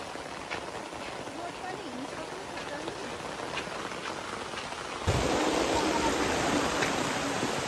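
Heavy rain pours steadily with wind, a constant broadband hiss that grows noticeably louder partway through and holds at that level to the end, with a person's umbrella leaking overhead.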